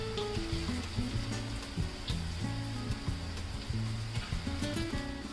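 Onion crab bhaji frying in hot oil over medium gas, a steady close crackling sizzle with busy bubbling throughout, and background music playing over it.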